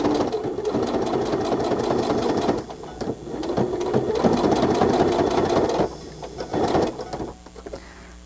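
A sewing machine stitches a pocket in long, steady runs of fast, rhythmic needle clatter, pausing briefly between runs and slowing near the end.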